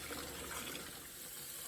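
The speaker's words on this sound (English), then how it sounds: "we'll rinse it out, and we'll start to refill it with clean, fresh water" Water runs steadily from a tap into a kitchen sink as it refills with clean water for washing apples, a continuous close, soft rushing and splashing without pause.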